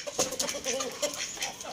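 Close, busy clucking from a hen, short repeated calls in quick succession with other birds murmuring around.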